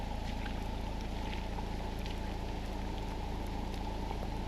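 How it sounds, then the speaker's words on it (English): Steady rain pours down on a flooded, very wet driveway in Far North Queensland, a dense continuous hiss with a low rumble underneath, as if heard from inside a car driving out. "the rain is nowhere near what it was after Jasper, so I think it's okay"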